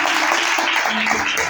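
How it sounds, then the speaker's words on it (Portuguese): A church congregation applauds together, a dense, steady wash of many hands clapping at close range that fills the whole moment without a break. "Você pode aplaudir o Senhor?"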